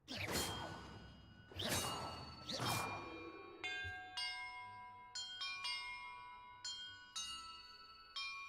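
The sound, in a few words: bell ringing in video game Hogwarts Legacy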